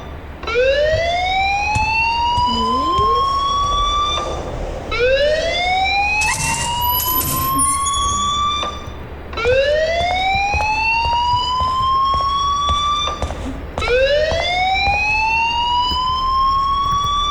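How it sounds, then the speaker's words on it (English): A loud alarm in the video game Life is Strange wails in repeated rising sweeps, each lasting about four seconds before starting again, steady and insistent with no voices over it. "please turn off that alarm since that's your job"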